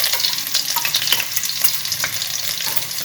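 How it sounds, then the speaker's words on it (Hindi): Garlic and ginger paste sizzles and fries in hot oil in a pan, a loud continuous crackle with occasional stirring scrapes and no talking. "इसको हल्का हल्का सा फ्राई करेंगे।"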